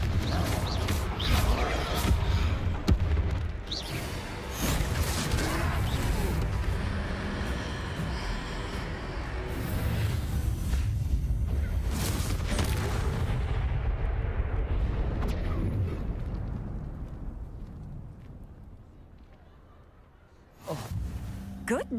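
The Confringo blasting spell in Hogwarts Legacy sounds as a loud, sustained explosive roar with booming low rumble and crackling debris. It fades over several seconds before a fresh burst near the end.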